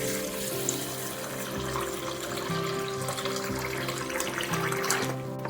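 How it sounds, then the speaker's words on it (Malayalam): Tap water runs steadily over a cup of rice being washed in a kitchen before soaking for cheenachatti appam, a continuous close splashing wash with no voices. "ഇത് നമുക്ക് നന്നായി കഴുകി കുതിർത്ത് വെക്കണം"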